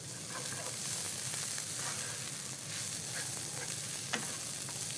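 Food stirred and sizzling in a pan while a chef cooks chicken with thyme and beans: steady dense frying hiss with soft scraping stir sounds throughout and one sharp clack near the end, close and continuous, no talking.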